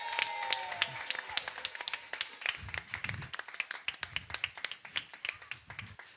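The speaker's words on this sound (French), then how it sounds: "un tonnerre d'applaudissements pour Jean-Luc!" Crowd applause for Jean-Luc at a special church service with a dance troupe, a steady patter of many hands clapping, some sharp near claps standing out, a faint voice murmuring briefly partway through.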